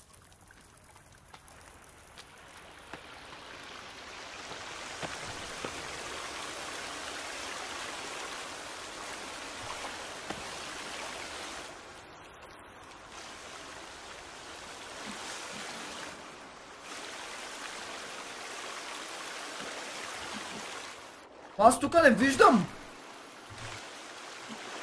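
Steady rushing of flowing stream water in the video game The Forest, a continuous broadband wash that swells and dips over time, with a brief burst of voice near the end.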